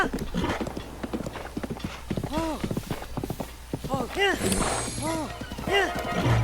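Horse hooves clip-clop at a rapid gallop in Breath of the Wild, a quick repeating rhythm of hoofbeats mixed with the horse's snorting breaths and loud game sounds, with a voice talking over them.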